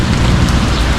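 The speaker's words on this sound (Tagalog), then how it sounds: "hanggang gabi na to ang ulan" Steady, loud rain falling in a continuous dense hiss with no breaks, with no one speaking.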